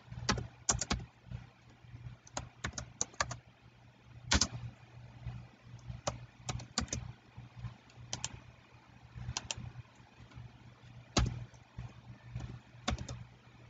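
Keys tapped on a computer keyboard while filling in a time field on a Facebook business page event form, with irregular bursts of clicks and pauses, close and fairly quiet, without speech.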